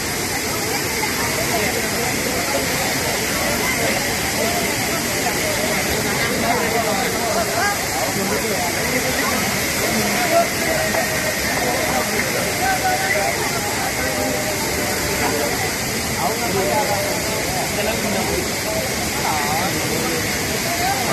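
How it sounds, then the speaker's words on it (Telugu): Constant heavy roar of a high-pressure waterfall, broadband and unbroken, with faint voices of crowds buried underneath the wash throughout. "అద్భుతమైన జలపాతం చాలా ఎక్కువ ప్రెజర్ ఉంటుంది"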